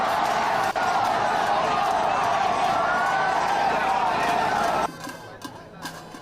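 Loud, sustained cheering and shouting from a packed crowd of BJP supporters greeting Narendra Modi at an election event, holding steady for several seconds before cutting abruptly to a quieter murmur of chatter.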